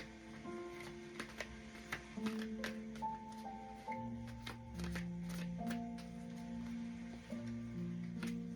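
A deck of tarot cards being shuffled close by, with quick papery riffles and flicks repeating over a low, steady hum.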